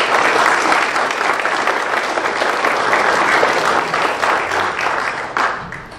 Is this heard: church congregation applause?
yes